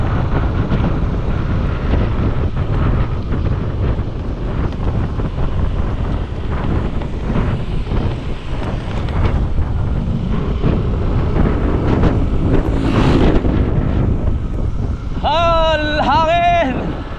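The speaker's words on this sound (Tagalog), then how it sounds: "Hangin!" Strong wind buffets the microphone in a steady, loud roar throughout, with people talking faintly underneath and a brief wavering high-pitched sound near the end.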